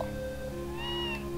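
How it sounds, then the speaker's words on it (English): Cats in the video game Tales of Phantasia give a faint, drawn-out meow partway through, set against a steady, looping game melody with sustained tones. "Kitties! Kitties!"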